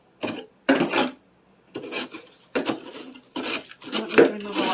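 Scraping ice from a freezer shelf with a hard utensil, a series of rough, rasping scrapes in bursts separated by short pauses, close and fairly loud.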